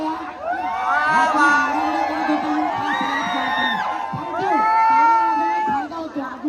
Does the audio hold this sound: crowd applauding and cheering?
yes